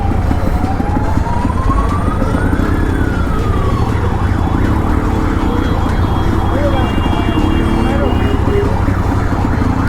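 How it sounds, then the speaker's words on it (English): An ambulance siren wails up and down in the distance, stuck in traffic on a badly broken road, beneath loud continuous traffic and engine noise, with a voice talking over it. "There's an ambulance here for some reason"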